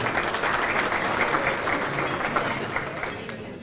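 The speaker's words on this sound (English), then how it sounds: "So let's give them a nice round of applause." Sustained applause from a banquet audience at a 2017 adult bowling association awards dinner, a dense, steady wash of many hands clapping that fades slightly toward the end.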